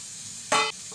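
Whole cumin seeds hit hot oil in a single short, sharp burst of hissing sizzle that lasts a fraction of a second, then fades to a low background.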